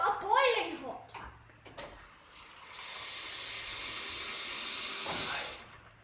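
Boiling water runs from a kitchen hot tap in a steady loud hiss lasting a few seconds, after someone talks nearby.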